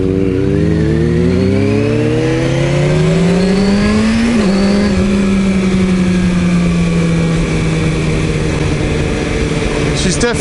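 A motorbike ridden on the road, its engine loud and close, revving up through a rising pitch then settling into a steady cruise, with wind rush throughout and a voice talking over it.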